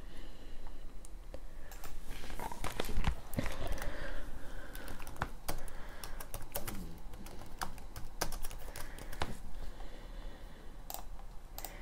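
Steady, fast typing on a computer keyboard, a dense stream of crisp clicks and key taps running continuously without speech, close and fairly loud.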